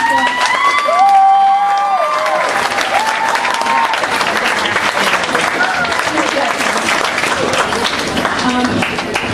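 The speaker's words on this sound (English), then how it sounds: "Round of applause for all these people" Audience applauds at a football and cheerleading awards banquet, a steady sustained round of clapping with cheers and whoops mixed in, while a voice speaks over it at the start.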